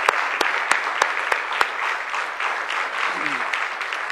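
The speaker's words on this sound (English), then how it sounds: "So I would like you to give a nice round of applause to Nathaniel again for his the national anthem." Applause from a seated audience at a school board swearing-in after the national anthem, a continuous even spread of clapping with sharper individual claps popping out, and a brief faint voice near the end.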